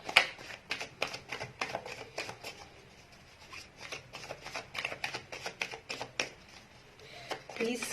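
Tarot cards are shuffled and drawn, a run of quick crisp riffling snaps in irregular bursts, close and fairly quiet, with a faint voice in places.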